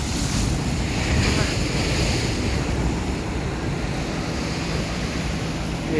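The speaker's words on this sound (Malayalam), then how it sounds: "ഇവിടെല്ലാം ഒന്നര രണ്ട് മീറ്റർ ഹൈറ്റിലാണ് കടൽ വരുന്നത്" Heavy sea waves during a swell surge wash continuously against a newly built rock breakwater, a loud, steady roar of surf with wind buffeting the microphone.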